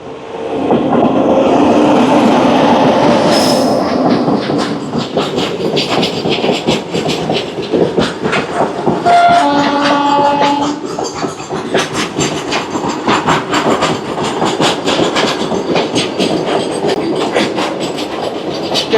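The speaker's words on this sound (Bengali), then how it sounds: "আমি ভেবেছিলাম কাঞ্চনকন্যা হবে, কিন্তু এটা একটা গুডস ট্রেন গেল।" A goods train on a hill section, pushed by a second engine at the rear, rolls past the Sevoke railway gate, loud and close with continuous wheel clatter and rumble and a brief tonal horn-like sound midway.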